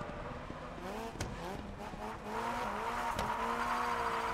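A rally car in the racing game Gravel, driven at night, accelerates with a rising engine whine and gear changes, with tire noise and a couple of sharp knocks. The sound is continuous and fairly loud.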